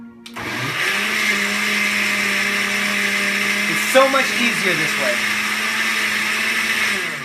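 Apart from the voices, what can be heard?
blender chopping tomatoes and parsley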